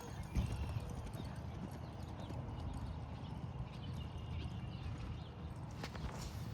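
Horse hooves loping around a circle in a riding arena, a steady rhythmic thudding of footfalls heard from moderate distance over continuous background noise.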